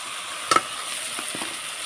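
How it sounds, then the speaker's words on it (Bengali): Ginger garlic paste and spices are stirred in a frying pan, giving a steady close sizzle with a couple of sharp scraping clicks from the spoon, and no talking. "দিয়ে ভালো করে মশলাটা নেড়ে নেব"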